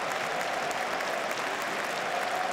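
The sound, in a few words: stadium crowd applauding a substituted football player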